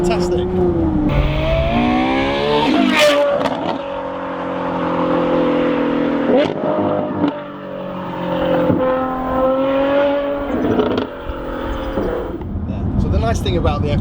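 A Ferrari F12 N-Largo engine burbles and crackles with exhaust pops on the overrun, a loud harmonic drone rising and falling while a person talks over it close by.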